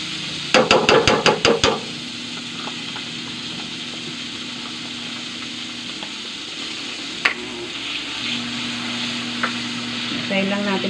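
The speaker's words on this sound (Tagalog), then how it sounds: "Try lang natin po matunaw yung butter" Butter melting in a pan as the base for garlic shrimp gives a steady low sizzle throughout, opening with a quick burst of sharp taps and followed by a few scattered clicks, with no talk over it.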